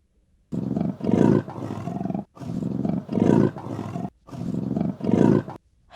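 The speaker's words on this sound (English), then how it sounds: "leopard" A big cat gives a series of deep, rasping roars in pulsing groups, loud and close, with short pauses between each run of grunts.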